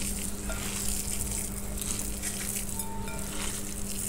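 Hot oil with fried dry chillies is poured into chicken bharta, giving a steady, close sizzle that holds at the same level throughout with no talk.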